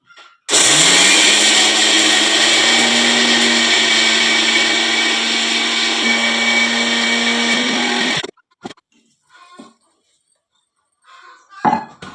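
A kitchen mixer grinder blends mint chutney in a loud, steady whir of about eight seconds that cuts off abruptly, followed by quiet handling clinks.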